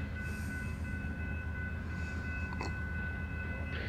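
An Amtrak California Zephyr passenger train rolls along steadily, giving a continuous broadband rumble with tonal hum, heard nearby and without speech.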